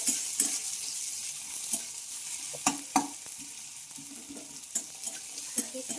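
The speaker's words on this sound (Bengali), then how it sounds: "এইভাবে ভেজে নেব সবগুলো একসঙ্গে" Garlic, onion and green chili frying together in a pan for a neem leaf mash, a constant soft sizzle broken by intermittent stirring scrapes and taps, close and alone without talk.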